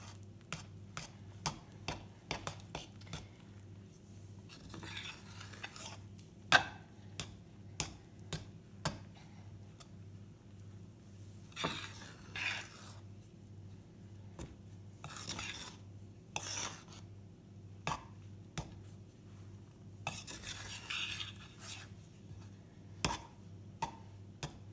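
Sourdough bread dough stirred together with a knife, giving a long run of quick, light clicks and taps of the blade against the bowl, close and fairly quiet over a low steady hum.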